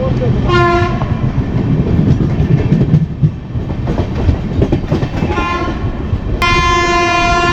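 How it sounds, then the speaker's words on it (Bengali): An Amrit Bharat Express (13434) at platform five of Bardhaman Junction rumbles loudly and sounds its horn in three blasts, the last one long and close. "তো আমাদের ট্রেন দিয়েছে বর্ধমান জংশনে পাঁচ নম্বর প্ল্যাটফর্মে এই অমৃত ভারত"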